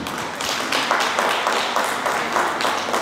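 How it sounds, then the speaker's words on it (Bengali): An audience at a book launch for Zakaria Muhammad Moinuddin's 'House Husband' gives the author a steady, dense round of clapping that fills the hall evenly for several seconds. "তার জন্য আর একটি করতালি।"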